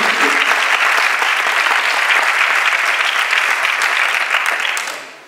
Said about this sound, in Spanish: Así que un aplauso para ellas.